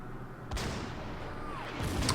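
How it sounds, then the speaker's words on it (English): Artillery fires in the WWII strategy game Order of Battle, a sharp blast followed by a sustained rumbling roll and a whistling descending tone, then another burst at the end, moderately loud with no talking. "More artillery opening up fire in the south."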